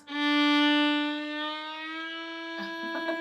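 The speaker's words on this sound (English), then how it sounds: "If I go any slower than that, it's going to sound like this." A single bowed string tone held and drawn out slowly, its pitch easing gradually before it breaks off into light scratchy noise at the end.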